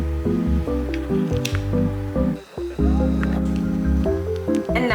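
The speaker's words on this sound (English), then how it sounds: "Now it's time to add the sauce." Sauce squeezed from a packet onto spicy Buldak ramen noodles makes close, wet squishing and dripping sounds in several short bursts, with a brief pause in the middle.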